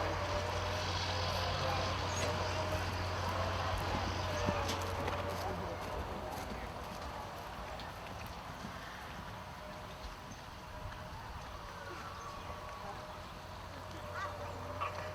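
Horses canter around the ring at an open field-day horse show, with soft, distant rhythmic hoofbeats under a faint outdoor ambience and announcer talk.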